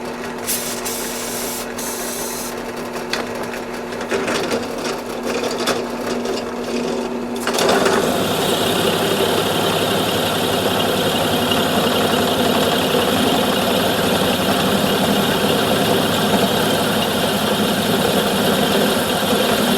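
A machine hums and rattles, then a loud, steady grinding whine takes over as a tool bit cuts continuously for a long stretch.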